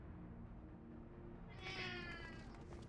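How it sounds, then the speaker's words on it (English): A pet cat gives a single drawn-out meow about halfway through, rising clearly above a steady low background hum. "You may also hear my cat at times yell at me because he's a drama queen."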